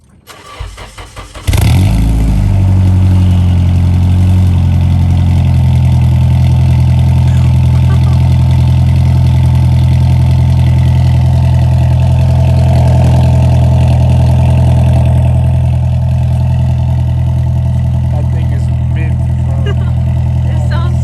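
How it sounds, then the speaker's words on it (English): Nissan 240SX with a new loud aftermarket exhaust cold-starting: a few cranking chugs, then the engine catches with a burst and settles into a loud, steady, deep idle right beside the car. "we're gonna get a cold start going because this thing hasn't been started all day"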